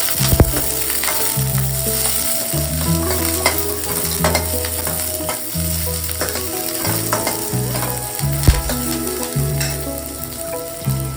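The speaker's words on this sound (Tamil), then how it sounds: "வெங்காயம் வறுத்து கருவேப்பிலை போட்டுக்கலாம். நல்லா வதக்கிக்கலாம்." Onions and curry leaves sizzle steadily in a hot pan while a spoon scrapes and stirs in repeated rhythmic strokes, close and continuous.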